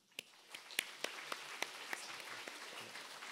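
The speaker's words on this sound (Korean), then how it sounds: "잠깐 일어나시면 우리 큰 박수로 격려하겠습니다." A church congregation at a Sunday service applauds a member returning after knee surgery, a soft, distant wash of many hands with a few sharper claps standing out.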